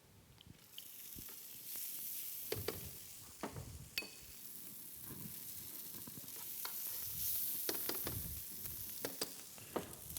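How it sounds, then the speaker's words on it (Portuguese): Rice sautéing in olive oil in a pan, a steady soft sizzle broken by scraping stirs and light clinks of a utensil against the pan, close and quiet. "vou colocar um pouco de azeite para saltear o arroz"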